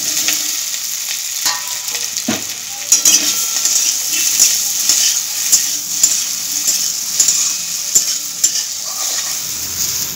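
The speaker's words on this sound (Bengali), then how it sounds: "এরপরে সোয়াবিনগুলো ভেজে নেবো। তার জন্য পরিমাণ মতো এখানে তেল গরম করে নিয়েছি।" Soybean chunks fry in hot oil with a loud, continuous hiss and crackle, broken by intermittent scrapes and clinks of a utensil moving them around the pan, close and without talk.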